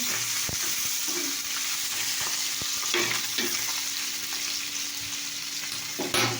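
Oil sizzles steadily in a pan with chopped onion, a continuous close hiss with a few soft stirring knocks and a faint low hum underneath, no voices.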